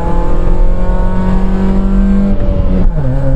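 A rusty Opel Corsa driven hard, its engine loud and close, holding a strained high rev that wavers and then drops sharply as the driver lifts off, with no talk.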